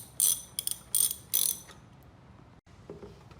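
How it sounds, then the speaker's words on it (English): A ratchet fitted with a 10mm socket clicks through several quick bursts while backing out airbox bolts on a car during an intake manifold swap, close and crisp, then falls quiet. "you're gonna get yourself a ratchet with a 10mm socket, and you're gonna take out these bolts to remove the airbox"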